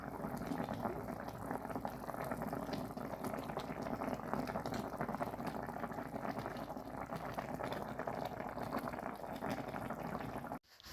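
Chicken sauce with chickpeas and raisins bubbling steadily in a pot, a constant close simmering hiss and gurgle that runs unbroken until it cuts off at the very end.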